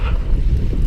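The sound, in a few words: wind on a lake during a canoe trip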